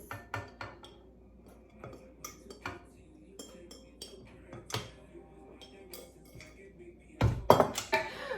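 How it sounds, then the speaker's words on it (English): A spoon or spatula clinks and scrapes against a bowl while dry ingredients are worked into creamed butter and sugar for oatmeal raisin cookie dough, with scattered sharp taps and a louder clatter near the end. "Now we're gonna add our dry ingredients to our wet ingredients."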